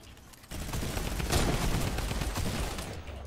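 Dense, continuous automatic gunfire from a minigun in a Fortnite match, starting abruptly and roaring steadily for about three seconds at close range.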